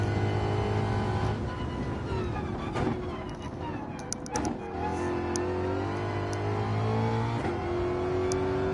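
A race car engine in Gran Turismo 7 revs hard out of a corner, rising and shifting through gears, loud and continuous with sustained high-pitched tones.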